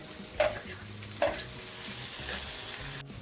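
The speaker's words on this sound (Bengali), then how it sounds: "পেঁয়াজগুলো একটু কষিয়ে নিচ্ছি" Onions cooking in hot oil in a village kitchen, a steady faint sizzle broken by two sharp stirring scrapes near the start and softer clatter later, with no voices.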